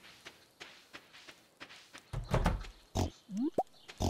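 Pigs in the farming video game Stardew Valley grunting and oinking in several short loud snorts and squeals, over a steady run of soft footstep taps, no talking.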